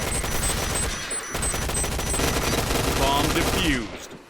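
Rapid automatic gunfire in the online shooter Point Blank, dense bursts of close, loud shots rattling almost continuously before cutting off near the end, with game effects layered under them.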